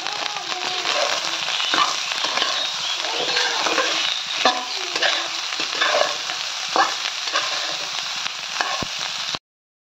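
Rice stir-fried with egg and tomato crackles and sizzles loudly in a pan, with repeated scraping and knocking of a spatula throughout until it cuts off abruptly.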